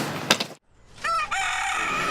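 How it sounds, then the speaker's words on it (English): A rooster crows in the early morning, one long drawn-out call rising clear and fairly close after a short burst of noise and a brief pause, with no talking. "We wake up by the roosters first thing in the morning"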